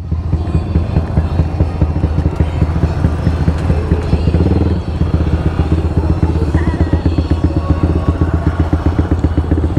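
A motorcycle engine with a carburetor problem idles loud and close, a steady rapid chugging putter with a brief change in tone midway before settling back.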